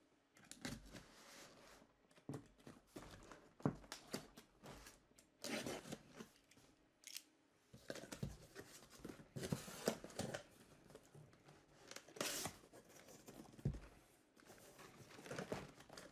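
Cardboard crinkles, rips and rustles as a sealed Hot Wheels J case long-card box is opened by hand, with irregular close tearing and handling noises throughout.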